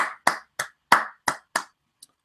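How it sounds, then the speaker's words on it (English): A sparse round of clapping from a small audience: six sharp, close hand claps in an uneven rhythm, then one faint final clap, with silence between them. "Give yourselves a round of applause."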